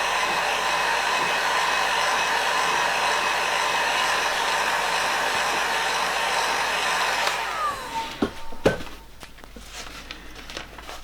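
A hair dryer blows steadily on freshly airbrushed paint for about seven seconds, a loud, even whoosh that then cuts off, leaving a few light clicks and handling noises.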